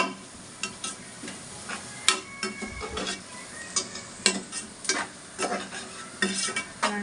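Onions sautéing in a pan for mutton biryani, with a steady sizzle broken by repeated scraping stirs of a spoon against the pan, close and moderately loud, no talking.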